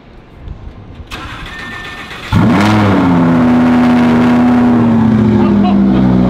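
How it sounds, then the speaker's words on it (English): An Audi R8 sports car engine cranks briefly on a cold start, then bursts to life with a loud roar and settles into a steady, booming high idle. "Gonna do a little cold start in the R8."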